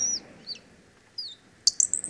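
A parrot gives a few short, high-pitched chirps, close and clear, with a quick cluster of sharper tweets at the end and near silence in between.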